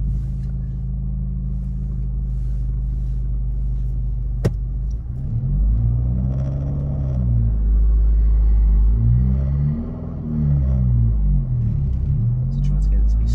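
A manual car's engine rumbles steadily at low revs, swelling as it pulls away at the clutch bite point, with a driving instructor talking over it.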